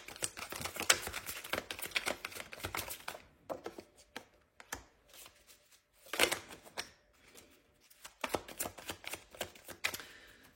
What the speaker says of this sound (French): je vais continuer à tirer les cartes